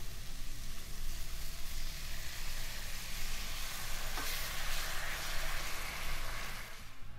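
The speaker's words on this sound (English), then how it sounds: "Then I'm just going to add a little bit of coconut milk to it." Shrimp curry sizzles steadily in a hot pan as coconut milk is poured in, a constant hissing fry with no talk over it.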